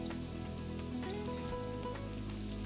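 Borscht broth slowly simmering in a covered pot for Ukrainian-style borscht, giving a soft, steady bubbling hiss under a faint background tone.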